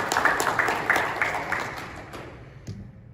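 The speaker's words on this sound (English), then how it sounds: "Another applause, please." Conference audience at the DNN Summit 2020 applauding a presenter, a burst of clapping that starts fairly strong and thins out, fading to near quiet by the end.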